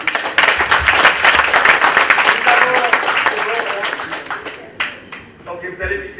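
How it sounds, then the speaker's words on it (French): A crowd claps in dense, sustained applause that gradually thins and fades, with a few scattered claps lingering at the end. "on applaudit."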